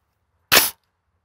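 A single sharp shot from a Daniel Defense Mk18 pistol firing Aguila 62 grain 5.56 ammunition, one short loud crack in otherwise near silence.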